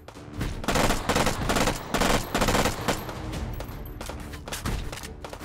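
Bursts of rapid automatic gunfire in the VR game Hot Dogs, Horseshoes & Hand Grenades, loud and close, several volleys separated by short pauses.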